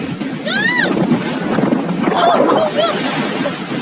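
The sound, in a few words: riding down a fast water slide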